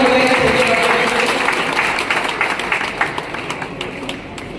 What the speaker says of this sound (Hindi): जोरदार तालियां हो रही है संजय भाटिया जी